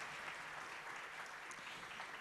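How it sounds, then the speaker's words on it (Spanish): A concert hall audience in Montevideo applauds a pianist, a steady, fairly faint wash of clapping that continues evenly for a couple of seconds. "para quien pido un gran aplauso, ya,"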